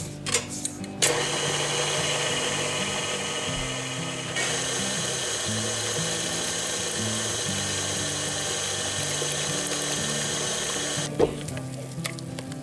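An electric mixer whirs steadily through cake batter made with sour cream, vanilla and milk, a close, continuous motor drone whose pitch shifts slightly partway through, with brief knocks at the start and end.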